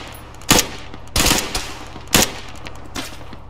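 Gunfire in a snowy military combat setting cracks out in short, loud bursts: four or five sharp volleys spaced irregularly over a few seconds, close by and over a low steady background hum.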